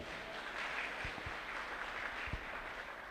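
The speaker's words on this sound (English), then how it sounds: "Give the females a round of applause too." Graduation guests at Quality Academics applaud the female graduates, a quiet, somewhat distant patter of many hands with occasional low knocks, holding steady without any voices.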